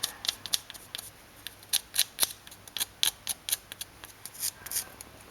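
A pencil scratches marking lines on the propeller shaft of a 1987 Toyota Corolla GT AE86 during a gearbox rebuild, a close run of short, crisp scraping strokes in an irregular rhythm with no talk.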